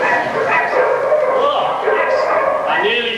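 High yips and whimpering bow-wows come from a pantomime's puppy police dogs. They sound loud and continuous on a stage, mixed with voice-like tones that suggest performers are imitating the puppies.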